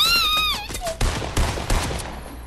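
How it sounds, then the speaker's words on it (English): Several sharp gunshot-like bangs in quick succession over a busy background, following a warbling electronic tone that slides downward. "Sound like gunshots"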